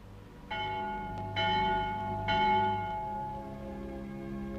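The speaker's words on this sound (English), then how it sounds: "The Vespers bell." A church bell rings for vespers in three resonant strikes about a second apart, each long metallic hum lingering and overlapping the next, clear and fairly loud with no voices.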